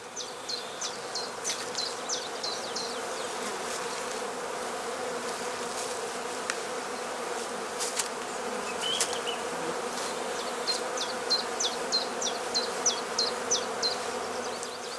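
A dense swarm of honeybees hums steadily and close by at a heather skep apiary in spring, subdued by smouldering tansy smoke, with individual bees buzzing louder as they pass near, no voices.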